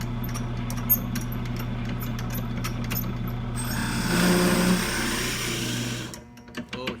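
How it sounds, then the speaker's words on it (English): A drill bores into a pipe's chamber toward a line of green tape. It gives a steady whirring hum that rises into a louder grinding pass midway, then cuts off near the end. It is close and nobody speaks. "And now you're going to drill to that line and check mark you made."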